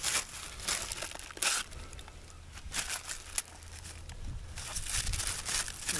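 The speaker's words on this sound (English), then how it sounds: "A little wax paper." Wax paper being handled and crinkled up close, a steady stream of crackling rustles with a few sharper crunches, fairly quiet and with no talk.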